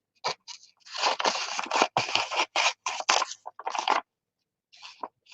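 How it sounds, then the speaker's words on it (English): Scissors cut around a paper piece in a string of close, crisp snipping and crunching strokes, broken by short pauses. "So I'm just going to cut round it"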